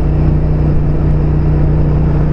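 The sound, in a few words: motorcycle engine accelerating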